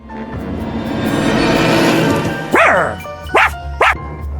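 A rising whoosh of sound gives way to three sharp dog barks in the video game Subway Surfers, loud and close, spaced about a second apart.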